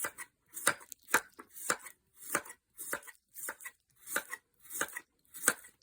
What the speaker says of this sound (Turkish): Biz doğramaya devam edelim.